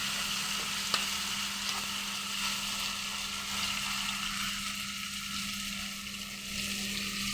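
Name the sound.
coriander and curry leaves frying in a pan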